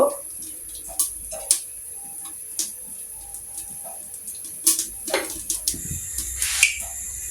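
Chili pakoras drop one at a time into hot oil, giving sparse sharp clicks and short crackling sizzle bursts that cluster more densely toward the end, with quiet background between them.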